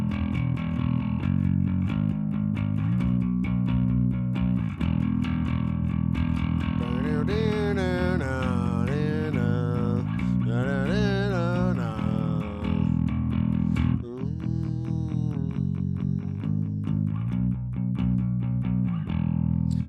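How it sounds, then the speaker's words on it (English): Distorted bass guitar played through a Revalver amp rig, a gritty, driven tone with a steady low riff and brighter melodic runs, loud and close, heard alone. "anytime you can add distortion to a bass, it definitely tightens up the sound and it makes it stick out in the mix"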